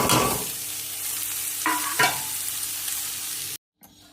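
Beetroot being stirred into frying eggs in a home kitchen pan, a steady close sizzle with a couple of scraping stirs, cutting off abruptly near the end.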